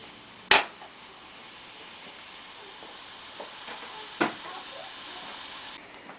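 Onion and ginger roasting on a grill until charred for pho give off a steady, soft hiss and sizzle, broken by a couple of sharp clicks near the start and midway.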